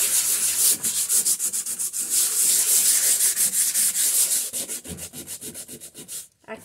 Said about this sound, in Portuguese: Eu vou dar uma lixadinha